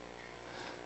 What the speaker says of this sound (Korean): 저기 프로젝터 지금 웅 하는 소리 들리시죠?